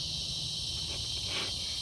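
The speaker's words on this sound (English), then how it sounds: "There go the cicadas again." Steady high-pitched insect drone of cicadas buzzing continuously outdoors in a garden, swelling slightly toward the end, with no talking.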